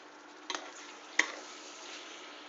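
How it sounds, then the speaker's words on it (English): Garlic and butter sizzle faintly in a pan as a steady soft hiss, broken by two brief utensil taps. "So we starting to get a little sizzle in here."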